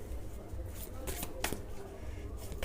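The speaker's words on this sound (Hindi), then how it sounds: "Let's see, 4 cards निकालूंगी।" Tarot cards being shuffled and drawn by hand, giving soft riffling and sliding bursts with a few sharp snaps, close and moderately loud over a steady background hiss.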